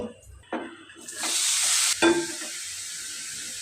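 Carrots dropped into hot ghee with bay leaf, cardamom, cloves and cinnamon for carrot halwa, a short hiss swelling into steady sizzling with a couple of clattering stirs, close by and no talk.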